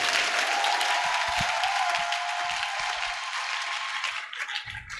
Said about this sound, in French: Est-ce que nous pouvons acclamer royalement le Seigneur?